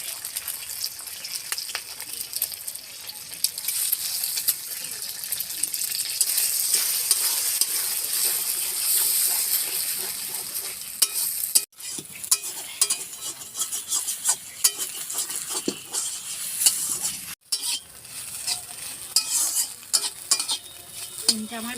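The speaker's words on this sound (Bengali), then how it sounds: "ডিমটা আমার ভাজা হয়ে গেছে, এবার আমি নামিয়ে দেবো।" Beaten egg fries in a hot pan for egg chow mein, giving a loud, continuous sizzle while a utensil stirs and scrapes it, with two brief pauses along the way.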